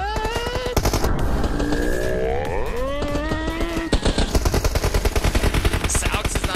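Rapid bursts of automatic gunfire ring out in the video game PUBG Mobile during a competitive scrim match, the dense clatter running over shifting tonal game sounds with excited voices mixed in.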